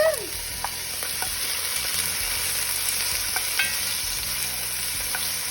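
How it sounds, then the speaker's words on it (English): Garlic and onions sauté in hot grapeseed oil with a steady, close sizzle. A few light stirring scrapes and clicks break through the hiss now and then. "Now I got my garlic and my onions in here and I'm just gonna saute these bad boys"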